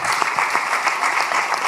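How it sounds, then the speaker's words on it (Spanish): Audience applause at a local and regional leaders' assembly, dense steady clapping from a crowd filling the whole moment at even loudness, with a faint voice underneath. "Un aplauso, ¿no?"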